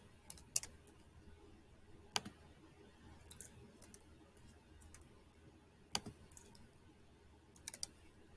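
Keys on a calculator are tapped in scattered, faint clicks, with a few single presses and small quick clusters over a quiet background as numbers are entered.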